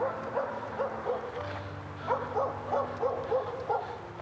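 A dog barks repeatedly in short bursts at a distance from up on a patio, the barks spaced irregularly over a steady low background hum.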